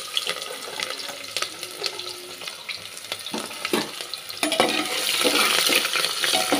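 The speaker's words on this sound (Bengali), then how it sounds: "এবার আমি দিয়ে দেবো তেজপাতা, দিয়ে দেবো পেঁয়াজ কুচি," Bay leaves and chopped onion going into hot white oil, with frying and sizzling that builds to a louder, steady hiss, broken by scattered clicks and stirring knocks.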